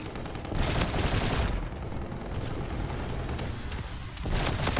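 Multiplayer gunfire in the video game Call of Duty Infinite Warfare, with dense continuous automatic fire and booms that form a loud, unbroken barrage.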